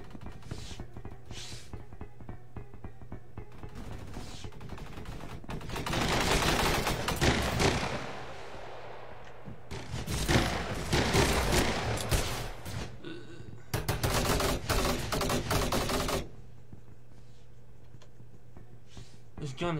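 Gunfire in the Roblox shooter Energy Assault, with bursts of rapid shots clustered in the middle of the clip, moderately loud, under a player talking over the game.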